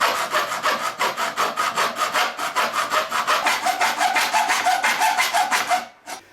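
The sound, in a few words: hacksaw cutting slits into aluminum Yagi antenna tube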